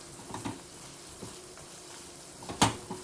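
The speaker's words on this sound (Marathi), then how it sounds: "हे छान असं व्यवस्थित परतावं लागतं." Ingredients being sautéed in a pan for chinchakadi rice, a tamarind rice dish, with soft scraping stirs at a steady pace and one sharper clatter near the end, over a faint background sizzle with no talking.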